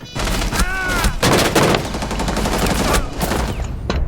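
Rapid gunfire in Rainbow Six Siege, a loud close burst of overlapping shots and cracks over about four seconds, with a voice briefly audible beneath it.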